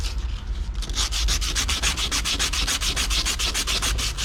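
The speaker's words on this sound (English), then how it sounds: "We can ream the inside and outside of these pipes so it's nice and smooth" A hand reaming tool works the ends of copper pipe during heat pump repair, making a loud, close, rhythmic scraping rasp that repeats in quick even strokes with no voices.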